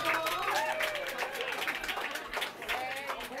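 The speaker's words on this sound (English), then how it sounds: "Huge round of applause for the Brits as they cross the line there." Applause and crowd noise from spectators greet British racers Elliot Chalafour and Andy Blow crossing the finish line at the ÖTILLÖ 2014 swimrun race, a steady, busy wash of clapping under talk.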